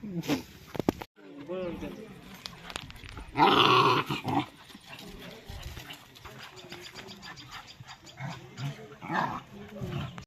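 A mother dog growls and barks in a few short bursts, close by, amid scattered movement noise and some background voices in a village.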